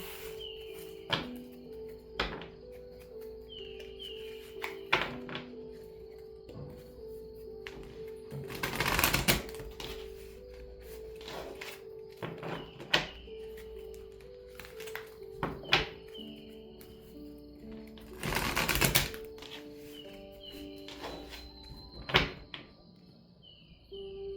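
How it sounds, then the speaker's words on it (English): Tarot cards being shuffled in several bursts of riffling and soft thumps, with a couple of louder clattering shuffles, no talking, steady quiet background. "Let me shuffle real quick."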